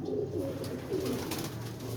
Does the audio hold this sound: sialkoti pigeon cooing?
yes